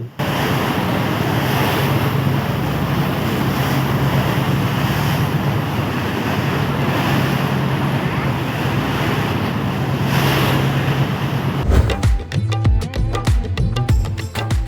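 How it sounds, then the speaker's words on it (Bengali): Choppy, wind-whipped waves on the Meghna river heard from a passenger launch crossing under cloudy skies, a steady broad roar of water and wind buffeting the microphone, turning into heavier rumbling splashes and knocks near the end. "বাতাসও কিছুটা বেড়েছে তাই নদীও কিছুটা উত্তাল হচ্ছে দেখতেই পাচ্ছেন নদীর ঢেউ"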